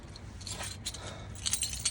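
Car keys for a Toyota Camry jangle close by in short bright bursts, with a cluster of sharper metallic clinks near the end.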